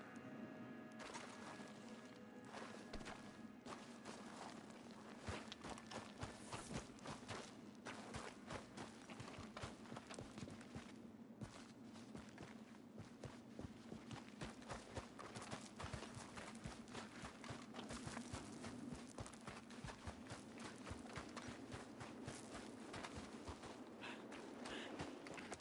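A horse's hooves clip-clop steadily in Red Dead Redemption 2, a continuous quiet rhythm of walking hoofbeats over a low ambient hum.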